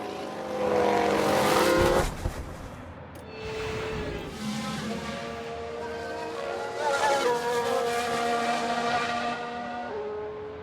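An Aston Martin race car in an F1 Manager 22 replay snarls past with a loud engine surge that drops away, then returns as a whining, tonal engine note that rises and fades.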